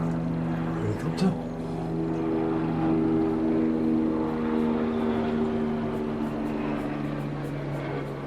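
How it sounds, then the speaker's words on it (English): A helicopter flying overhead on the North Cornish coast makes a steady, loud engine and rotor drone that holds through the whole stretch, with a brief murmur of voice near the start. "Helicopter."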